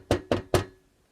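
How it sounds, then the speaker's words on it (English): Three firm knocks on a door in quick, even succession, close and clear, then silence. "Soon there was a knock on the door."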